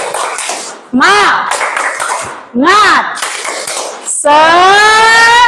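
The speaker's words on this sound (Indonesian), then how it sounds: "Coba tepuk semangat dulu." In an Indonesian group session, people perform a rhythmic spirit clap (tepuk semangat): bursts of patterned clapping trade off with loud, drawn-out chanting voices, all close and forceful.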